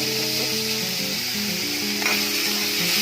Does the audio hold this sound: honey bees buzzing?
no